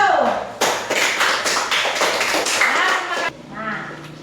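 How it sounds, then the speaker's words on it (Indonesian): Students in a classroom clap for a group, a quick run of many close claps lasting about three seconds before stopping, followed by a softer tail with a voice. "Oke, tepuk tangan untuk kelompok 1."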